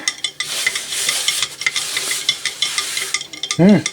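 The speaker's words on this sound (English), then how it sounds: "we'll just give it a quick stir to get the sugar and the salt diluted into there" Sugar and salt are stirred into a curing brine for bacon and ham, with a spoon scraping and sloshing in quick uneven strokes, ending in a short tonal clink.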